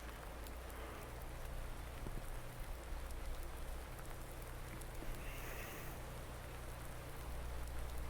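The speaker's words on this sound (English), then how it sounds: "I wasn't expecting it to rain." Steady rain falls in Farming Simulator 19 as a continuous soft hiss of drops pattering on surfaces over a low background hum.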